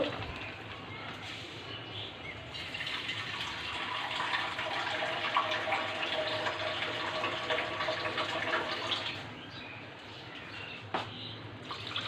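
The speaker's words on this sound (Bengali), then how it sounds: "এখন ঝোলটা দিয়ে দিব" Broth is poured into a pan of curry with magur catfish and radish, making a continuous watery rush that builds for several seconds, then tapers off. A few brief clinks follow.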